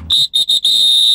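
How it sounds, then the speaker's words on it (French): A whistle blown in four sharp blasts, three short and one long sustained, loud and shrill, with no talk over it. "Je fais sortir mon sifflet."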